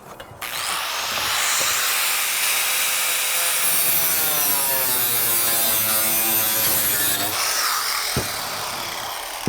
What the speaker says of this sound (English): Let's go cut the siding for this piece